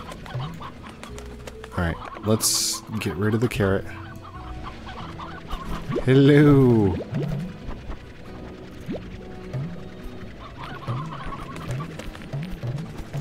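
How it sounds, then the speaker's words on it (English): Chickens clucking in the farming game Slime Rancher, several short cackles and bird calls scattered through, with a person talking throughout. "Oh, we got lots of chickens."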